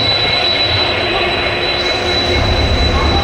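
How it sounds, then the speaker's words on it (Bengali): The Howrah–Puri express train 12837 pulling into a station, a loud continuous rumble of wheels and carriages with a high metallic squeal running throughout, close to the listener. "ওই সামনে গাড়ি আসছে আমাদের, হাওড়া পুরী 12837"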